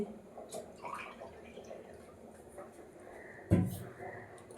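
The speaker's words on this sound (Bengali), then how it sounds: "দিদিভাই ডিউটি আছে দেখো অ্যাকোয়াগার্ডে জল ভরছে" An Aquaguard water purifier fills a container in a home kitchen early in the morning. A faint trickle and dripping sit under low background noise, and one louder splash or knock comes near the end.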